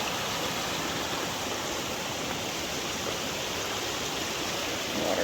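A large stream crossing a hiking trail, fed by many small tributaries, rushes and splashes in a steady, dense wash of water noise that fills the whole stretch without a break.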